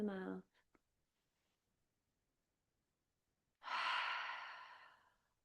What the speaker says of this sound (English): those big breaths in and those long exhales out through the mouth